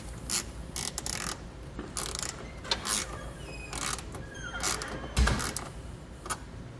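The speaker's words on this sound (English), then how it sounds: "come back with that 10mm socket and tighten up the nuts" Ratchet clicking in short bursts as a 10mm socket tightens nuts holding ring terminals on a circuit breaker, close and fairly quiet with brief pauses between strokes.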